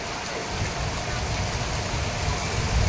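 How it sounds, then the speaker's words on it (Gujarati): Steady rain falls on an open rooftop terrace that is flooding with water, making a dense, even hiss close by that fills the whole clip, with faint talk underneath. "જો પાછો આવ્યો વરસાદ. જો તો ગાઈસ જોઈ લો કેટલો મસ્ત મજાનો વરસાદ છે."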